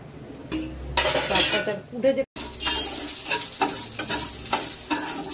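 Whole garam masala, cumin, dried chili and bay leaf hit hot oil for tempering, giving a steady loud sizzle with pops and clattering of a metal pan and utensils, a brief cut midway.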